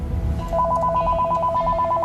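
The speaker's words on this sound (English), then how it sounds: "There, it's ringing." A telephone rings with a rapid trilling electronic warble, a single continuous burst heard close over a low background rumble.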